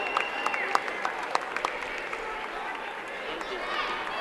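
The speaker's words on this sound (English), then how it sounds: "Nice round of applause for leading scorer Jesse Megieri as he checks out for the final time" Applause at a high school boys' basketball quarterfinal as a senior leading scorer checks out for the last time, a crowd clapping in the gym with scattered chatter beneath.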